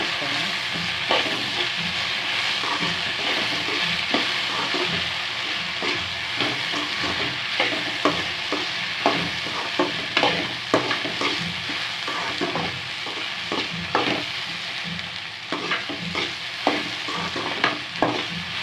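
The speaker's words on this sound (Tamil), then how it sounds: "ஒரு அஞ்சு நிமிஷம் நல்லா வதக்கி விட்டுக்கலாம்" Spiced okra (vendakkai) sizzles and fries in a pan, with a steady hiss under repeated scraping and stirring strokes from a spatula, close and continuous, and no talk over it.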